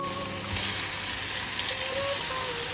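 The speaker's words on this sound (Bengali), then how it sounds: "এবার এর মধ্যে আগে থেকে যে মাশরুমটা ম্যারিনেট করে রেখেছিলাম সেটা দিয়ে দেবো" Marinated mushrooms drop into hot oil and spice paste as the paste fries, giving a steady, close sizzle of even loudness with no talking.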